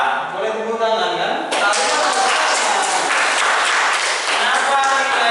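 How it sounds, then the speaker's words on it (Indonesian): Classroom of students applauding a group, a dense burst of clapping that starts abruptly after a moment of talk and carries on loud to the end. "Boleh tepuk tangan kan?"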